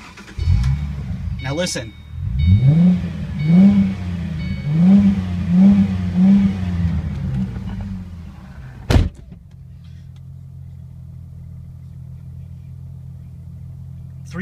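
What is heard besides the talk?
2008 Ford Mustang convertible engine starting and revving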